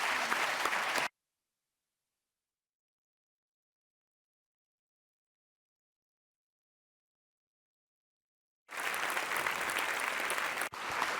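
Audience applauding after a lecture on seed law, a dense burst of clapping that cuts off abruptly, followed by a long silence before the applause returns just as full.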